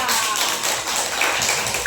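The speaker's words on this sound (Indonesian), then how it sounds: "Kasih tepuk tangan untuk kelompok 3." A second-grade elementary classroom of children clapping for a group, a short burst of dense, close hand claps with voices mixed in.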